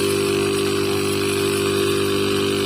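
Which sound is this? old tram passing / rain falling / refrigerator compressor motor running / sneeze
refrigerator compressor motor running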